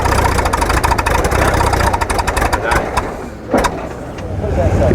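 The Tucker car's 335 cubic inch water-cooled, horizontally opposed six-cylinder helicopter engine runs steadily with a rough, loud low rumble and a brief rev near the end, heard close up; a voice talks over it.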